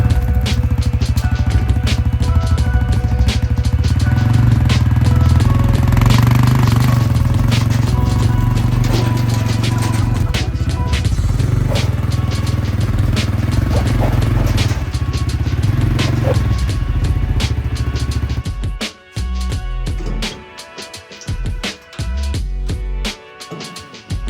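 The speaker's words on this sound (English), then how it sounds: "First thing I'm gonna do is hook it up to the four-wheeler and take it into the shop." Four-wheeler ATV engine running while towing a camp trailer toward a shop, a loud continuous rumble with rattles and clatter from the rig, dropping away near the end to quieter bumps and scrapes.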